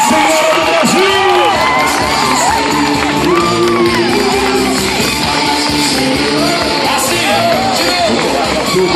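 Loud crowd cheering and whooping at an expo arena, a continuous roar of shouts and voices with clapping buried in it, sustained and close throughout.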